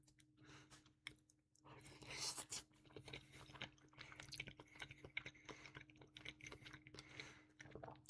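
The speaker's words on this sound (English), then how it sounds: "Sorry, I gotta chew it." Close, moist chewing and biting of a homemade dish during a mukbang, with soft wet squishes and clicks spread across the clip and a steady low hum underneath.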